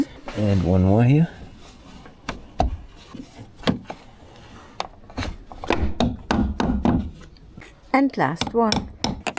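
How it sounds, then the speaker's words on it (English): New plastic clips are pushed one by one into a Land Rover bumper, making several sharp, irregularly spaced clicks and snaps up close, with someone talking briefly between them. "here on the bumper we use brand new clips and I just push them in"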